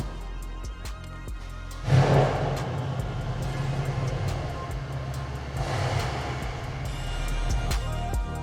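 A modified Mercedes C63 AMG rumbles with a deep, steady engine note that swells sharply as the car pulls away, then holds a loud, continuous drone with a second surge a few seconds later.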